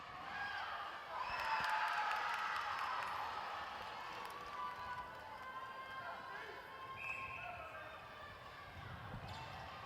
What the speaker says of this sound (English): we have an amazing crowd making some great noise for the two teams here in the final game of day 5